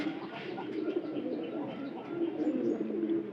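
Pigeons coo softly and repeatedly, low throaty murmurs overlapping in a continuous gentle burble, fairly faint and close.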